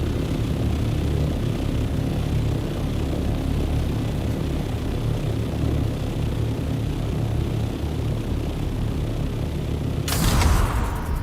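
Steady droning rumble of an aircraft flying in the desert video game Dune Awakening, continuous and loud throughout with a brief louder burst near the end.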